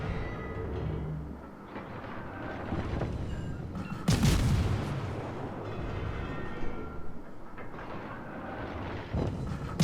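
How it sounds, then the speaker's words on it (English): Naval guns on a Tier-5 British destroyer, the Acasta, fire at an enemy ship in World of Warships. A loud boom lands near the middle over continuous rumbling battle noise, and a second, smaller report comes near the end. "He's out of torpedo range, so we're just gonna shoot at him"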